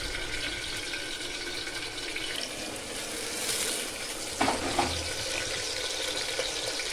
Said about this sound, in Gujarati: તેલ ગરમ થઈ ગયું છે. હવે આપણે શાકને વઘાર લઈએ.